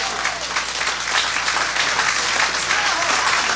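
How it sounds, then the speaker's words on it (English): An audience applauds a band on a radio show, steady dense clapping that fills the space evenly for a few seconds without any voices. "Give them a round of applause."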